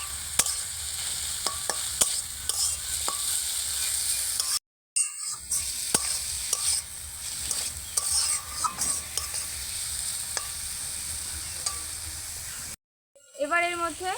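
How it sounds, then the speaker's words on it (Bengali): Grated potato goes into chopped tomato frying in a pan, a steady close sizzle with clinks and stirring scrapes, broken by two short silent gaps. "টমেটোটাকে হালকা করে একটু ভেজে নিয়ে এবার দিয়ে দিচ্ছি গ্রেট করে রাখা আলু"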